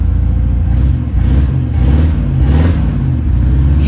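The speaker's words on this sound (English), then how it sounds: "Now I'll give it a little gas and you'll see that light just disappear." A 1955 Chevrolet Bel Air convertible's engine gets a light blip of throttle, a steady low rumbling idle that swells gently and settles, close and fairly loud, with no talking.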